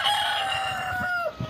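A rooster crows in a long, strained call that trails off, with faint clucking and outdoor noise underneath.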